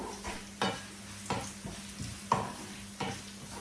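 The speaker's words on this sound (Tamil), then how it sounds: "இப்போ நான் கருவேப்பிலை போடுறேன் மீண்டும் ஒரு முறை எல்லாத்தையும் சேர்த்து கிளறி விடுவோம்" Prawns sizzle and fry in a pan with curry leaves, with a spatula stirring in regular scraping strokes about every second over a steady close sizzle.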